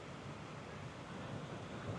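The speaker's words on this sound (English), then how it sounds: "Still fairly windy." Wind blows across the microphone during a night road bike ride on the Gold Coast, a faint, steady rushing buffet that persists for a couple of seconds without talk.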